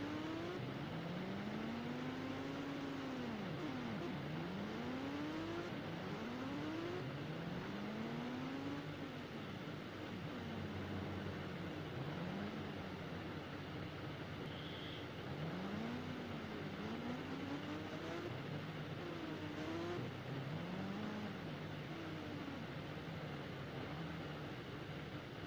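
Pulsar motorcycle engine in an Indian bikes video game, a steady synthetic engine drone that repeatedly revs up and falls back as gears shift, continuous and fairly quiet.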